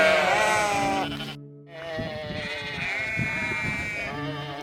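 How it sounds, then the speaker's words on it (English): Sheep bleat in the Norwegian countryside, several loud, wavering calls close by, with a brief pause between bleats. "Can you see the sheep?"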